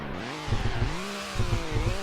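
Porsche 992 engine in a racing video game, a buzzing whine that rises and falls in pitch with throttle changes, fairly loud and continuous with no talk.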